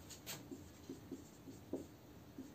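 Faint scratching of handwriting letters, soft irregular pen strokes on paper repeating every half second or so, with a quiet room hiss behind them.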